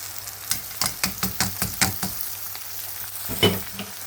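Onions and rice fry in a hot pan, a run of sharp sizzling stirs and scrapes in steady rhythm, close and alone, fading to a quieter simmer before one more stir.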